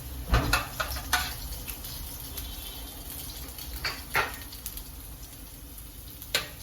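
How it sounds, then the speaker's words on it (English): Garlic sautéing in a pan on low heat gives a quiet, steady sizzle with a few soft clinks and scrapes scattered through it, close by with no talking. "I'm going to allow my garlic to saute."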